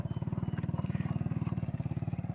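A motorcycle labours along a muddy road, its engine pulsing in a steady, loud, rapid rhythm close by throughout.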